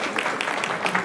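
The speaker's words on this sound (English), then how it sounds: "Let's give them a round of applause." Short burst of applause from a school audience during an inter-house science quiz, brief crowd clapping lasting about a second.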